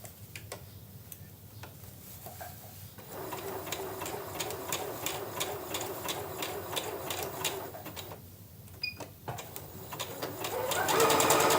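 Bernette Chicago sewing machine stitching appliqué, a fast even run of needle clatter in two bursts separated by short pauses, close and clear.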